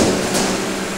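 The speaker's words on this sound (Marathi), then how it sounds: "चालू केल्यानंतर सेट केलेल्या ड्रिलच्या पॉईंटवरती ड्रिलिंग केलं जातं आहे" A drilling machine in a fitter workshop bores into a metal job held in a machine vice, a loud steady grinding whir that fills the clip without pause.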